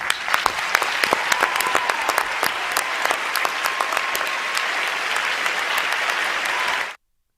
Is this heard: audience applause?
yes